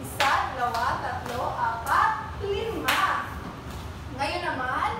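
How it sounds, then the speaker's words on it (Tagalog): Children in a classroom clap in a counted sequence, sharp separate hand claps spaced about a second apart under a teacher counting aloud. "bigyan natin mga sarili ng 5 palakpak"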